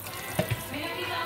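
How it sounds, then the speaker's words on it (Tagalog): Running water splashes steadily from a sink tap as fish is rinsed, fairly quiet and continuous, with a couple of soft knocks from handling near the start. "Hugasan natin ulit yung isda."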